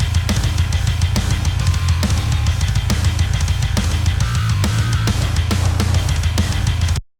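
Drum and bass mixdown from a metal production, with Drumforge sampler drums and a Eurobass 3 bass DI plus extra processing, thumping out a steady beat of loud regular drum hits over a heavy, sustained low bass line, with no talking.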